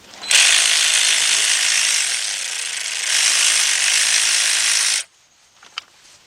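A ratchet wrench backs off a bolt on a Volkswagen Beetle engine, working under a housing: about five seconds of steady, close rapid clicking, then it stops, leaving a near-silent pause with one small metallic tap.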